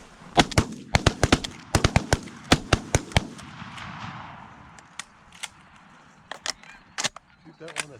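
Shotgun blasts during a goose hunt, a rapid volley of about a dozen sharp close reports followed by a few more scattered shots, with people talking between them.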